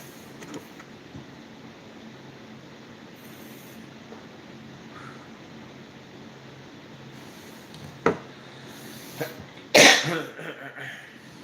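A sick person who once smoked cigarettes and now vapes coughs, with a short cough and then a louder harsher one near the end, following a long stretch of quiet room noise.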